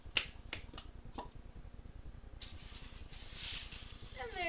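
Several sharp pumping puffs and clicks from an olive oil sprayer being pumped up, followed by a steady airy hiss, close and fairly quiet.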